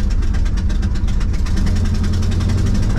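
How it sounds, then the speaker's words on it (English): A 1982 Ford F-150 302 V8 engine idles fast and loud with its carburetor out of adjustment, a steady rapid rhythmic chugging with a deep low rumble, close by and continuous. "I think we're idling a little bit high."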